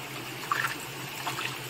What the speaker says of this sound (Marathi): हा जिवंत झरा वाहतो आणि त्याच पाणी.